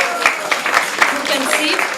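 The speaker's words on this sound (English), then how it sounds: "So a round of applause for these wonderful devotees" Devotees receive a round of applause at a morning lecture, steady dense clapping from a gathered crowd throughout, fairly loud and close.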